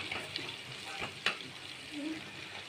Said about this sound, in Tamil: பச்சை வராத அளவுக்கு வதக்க வேண்டும்.